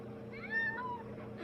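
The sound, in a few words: cat meowing in anime episode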